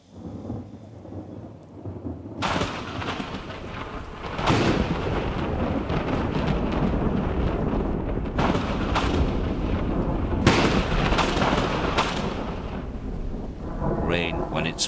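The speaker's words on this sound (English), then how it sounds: "Rain, when it sweeps over the Mojave, is brief and violent." A thunderstorm sweeps over the Mojave desert with heavy, steady rain and repeated loud, rumbling thunder cracks throughout, a violent, dense wash of sound with no voices.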